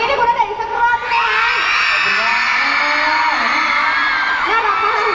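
Audience at a mall concert in Korat, Thailand, screaming and cheering in a sustained high-pitched roar that swells after a brief voice and holds loudly to the end.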